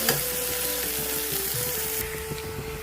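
Potatoes being fried with spices in a pan for a mustard-seed, curry-leaf and tomato lata fish dish, a loud, steady close-up sizzle that continues unbroken throughout.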